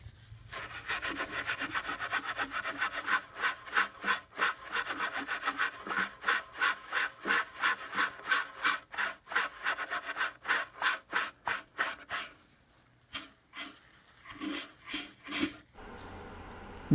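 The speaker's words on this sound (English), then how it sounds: "just going over this area with the steel wool, trying to blend some of this in" Steel wool rubs back and forth over the wooden finish of a Crosley 718-B radio cabinet in a quick, close, regular rhythm of raspy strokes that pause and resume more sparsely near the end.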